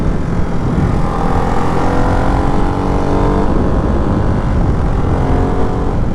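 Steady loud engine drone and wind rush from a Ducati Hypermotard 698 Mono RVE single-cylinder motorcycle being ridden, continuous with a slowly shifting tone and no pauses.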